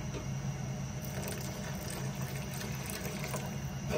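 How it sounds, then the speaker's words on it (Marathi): Hot water poured into mutton curry gravy in a cooking pot, a steady gurgling trickle with light splashing and a low rumbling wash, close and continuous for several seconds. "मसाल्याचं भांड धुवून ह्याच्या रस्स्यामध्ये गरम पाणी घालते।"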